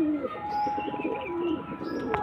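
Close pigeons coo in low, rolling, repeated calls, with a faint chirp near the end.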